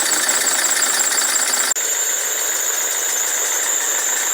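Steady high-pitched whine and rumble of a Volvo V50 with a Powershift dual-clutch gearbox, an idler bearing noise over the running engine, continuous and fairly close, with a brief dropout partway through.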